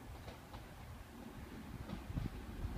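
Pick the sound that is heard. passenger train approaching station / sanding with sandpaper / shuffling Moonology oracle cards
passenger train approaching station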